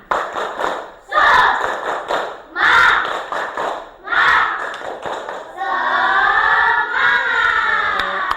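A classroom of young children performs a rhythmic spirit-clap chant, loud close voices shouting in bursts with claps and thumps, ending in a longer sustained group cry.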